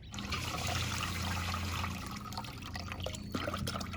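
The toilet in a 2022 Winnebago Travato 59KL RV is flushed while its leaking waste valves are being troubleshot, giving a close, steady rush of draining water that trickles off toward the end.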